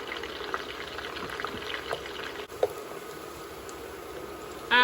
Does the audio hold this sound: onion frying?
yes